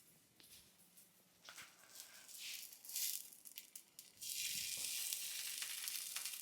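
Dabeli buns roasting in a hot pan, sizzling that swells into a loud, steady fry with a few stirring scrapes and rattles, close up, with no talk.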